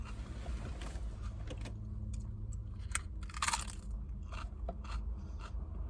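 Close crunching and chewing sounds come in irregular bursts over a low background rumble, with no talking.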